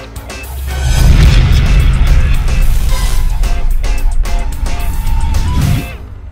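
A RAM 1500 Limited Night Edition pickup's 5.7-litre Hemi V8 with an eight-speed automatic roars loudly and steadily for about five seconds with a deep rumbling boom, then cuts off.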